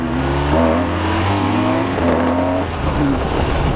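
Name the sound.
BMW R1200 RT motorcycle engine revving while taking off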